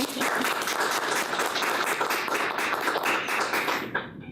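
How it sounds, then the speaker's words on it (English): An audience gives a steady round of applause at a talk on domestic violence, dense clapping at even volume throughout that trails off abruptly near the end. "Give him a round of applause."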